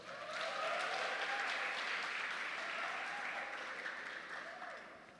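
Round of applause at an education seminar on gender diversity, a soft, distant, sustained clapping from the audience that swells briefly then fades toward the end.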